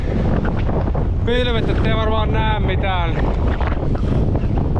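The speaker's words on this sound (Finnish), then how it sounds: "Täällä on niin kovaa tuuli" Strong wind on a fell summit in autumn roars and buffets the microphone continuously while a person speaks over it close by.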